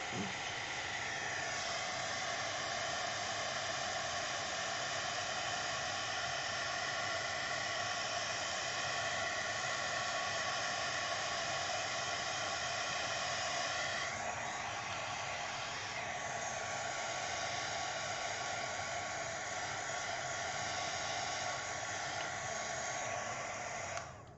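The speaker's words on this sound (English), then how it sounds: "I'm going to hit this with a heat tool again, but I'm going to use the lower setting" A heat tool on its low setting blows over a card panel being dried, a steady airy whirring hiss that runs unbroken for over twenty seconds, close and even.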